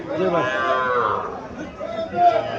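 A Friesian calf at a cattle market in Comilla, Bangladesh, moos in a long drawn-out call near the start, then people chat in the background.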